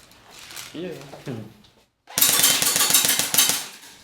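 Airsoft G36 replica rifle firing a sustained full-auto burst, a rapid, even train of sharp mechanical clacks lasting about two seconds, loud and close after a brief spoken remark.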